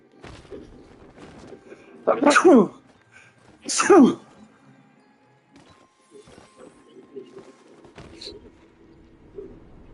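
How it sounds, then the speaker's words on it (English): A person sneezes twice in quick succession, loud and close, during a live stream of the game Palia, with quieter background clatter and game sounds around the sneezes. "Because I sneezed."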